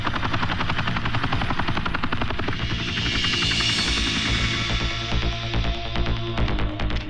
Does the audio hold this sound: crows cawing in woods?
no